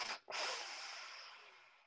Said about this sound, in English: And now you're going to inhale three sniffs,